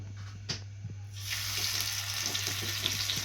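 Hot ghee sizzling for a country chicken gravy: a quiet start with a few taps, then a bright, steady hiss of frying that rises and holds loud and close.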